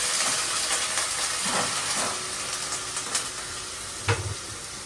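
Onion frying in a hot spiced tempering for a vegetable dish gives a steady, close hiss and sizzle, with a couple of brief utensil knocks near the end.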